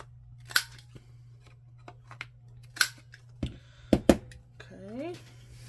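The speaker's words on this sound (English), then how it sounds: "And we're just gonna clip off the corners." Scissors snip the corners off a paper journaling card in a handful of sharp, close cuts spaced a second or so apart, over a steady low hum with light handling noise between snips.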